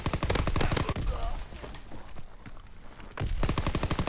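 Fast bursts of automatic gunfire rattle through a hardpoint match in a first-person shooter. There is rapid, loud firing at the start, a quieter stretch with scattered shots, then another close burst of rapid fire at the end.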